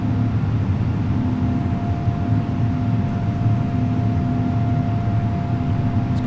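Airbus A330neo engines in Microsoft Flight Simulator spooling up to climb thrust give a loud, steady jet roar with a thin whine running through it, continuous for the whole stretch with no speech.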